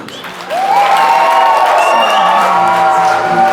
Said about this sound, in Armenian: իսկ հիմա ծափեր են տալիս Փեսայի կողմը